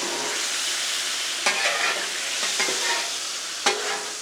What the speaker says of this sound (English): we are deglazing that griddle, get all that goodness up